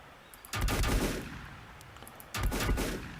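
Gunfire in the video game Volcanoids comes as two loud, rapid bursts about two seconds apart, each a quick string of close shots.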